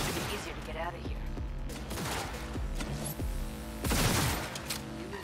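Gunfire from Cyberpunk 2077 rattles in rapid fusillades over game sound, with a louder burst of shots near the end and voices talking underneath.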